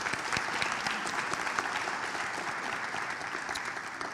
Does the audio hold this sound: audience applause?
yes